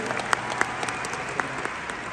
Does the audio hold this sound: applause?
yes